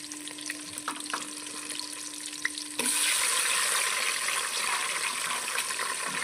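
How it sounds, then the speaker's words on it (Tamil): Tomatoes poured into a hot pan over a wood-fired stove for country chicken curry set off a sudden loud, continuous hissing sizzle that stays steady to the end after a quieter stretch. "தக்காளியும் கொட்டி விடு"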